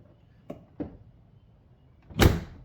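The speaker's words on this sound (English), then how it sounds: "And our window moves up and down pretty well perfectly." A Tesla's power window moves, heard as two faint mechanical clicks followed by a louder, brief whirring thud near the end, in a quiet car interior with no talking.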